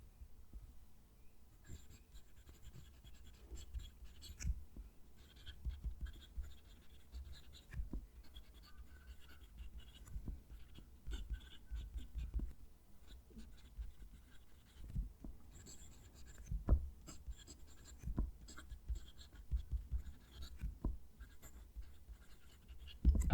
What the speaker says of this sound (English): Going to move the mic down to the page and write a sentence.